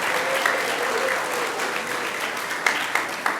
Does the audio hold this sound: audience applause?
yes